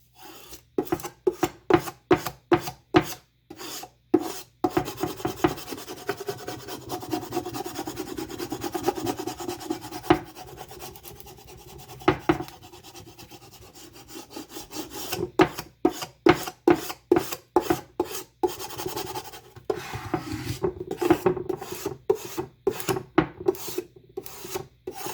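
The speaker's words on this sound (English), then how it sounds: "now I'm going to use my scraper again and really get this down" Scraper tool rubbing vinyl stencil and transfer tape down onto a wooden Halloween sign, a close, dry rasping in rapid back-and-forth strokes, with a steadier stretch of rubbing in the middle and quick strokes again near the end.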